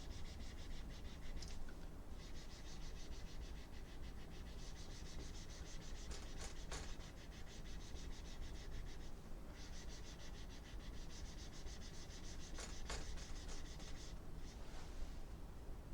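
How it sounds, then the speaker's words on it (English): Eraser rubbing across a classroom board, a continuous scratchy swishing that runs steadily throughout with brief pauses and strokes, moderately quiet and close, with no talking. "Let me erase this here."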